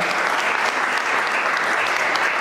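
Loud, continuous applause from a church congregation, a dense wash of many hands clapping close by without a break.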